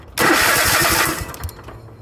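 A lawn mower engine with a newly fitted starter cranks and fires up with a loud, close roar, then settles toward a lower running rumble within about two seconds.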